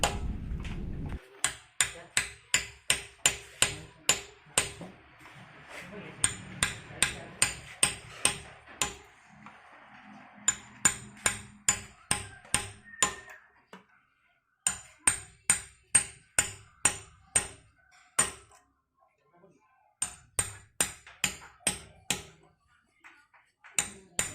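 A hammer strikes repeatedly during valve seal replacement on a standard Isuzu Panther Euro 2 diesel engine, sending out quick runs of sharp metallic taps in regular bursts separated by short pauses.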